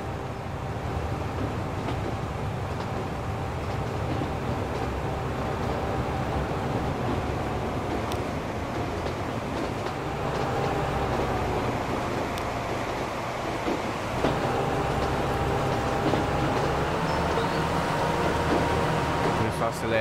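A bullet train pulls away and accelerates in the railway simulation game Transport Fever 2, a continuous loud rumbling drone with a faint rising whine, steady throughout with someone talking over it.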